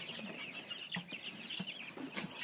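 Chicks and hens cluck and peep in a small farm coop, a steady chatter of soft calls with a few sharper notes, fairly close and continuous with no talking.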